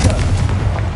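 The Confringo explosive spell is cast in Hogwarts Legacy, a loud, close, booming blast with a heavy low-end rumble and rapid crackling bursts over about a second.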